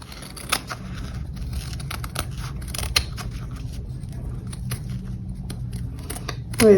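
Dull scissors snip through fabric while a small bowler bag is being sewn, giving sparse, irregular sharp clicks and crunchy cuts over a quiet room hum.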